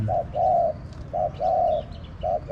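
Repeated soft, hollow coos of a caged spotted dove in a steady rhythm, several short phrases close by, with faint chirps in the background.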